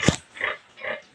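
Pigs on a farm grunt and oink at feeding time while their feed is mixed, three close grunts in a row with short pauses between, loud and alone.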